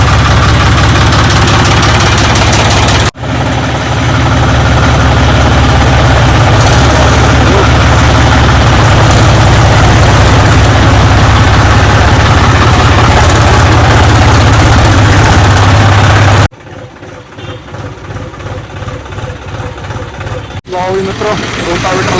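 A John Deere tractor engine runs loud and close at a steady idle, a heavy low rumble with rhythmic knocking, then the tone changes near the end as the engine note shifts; no starter crank is clearly evident.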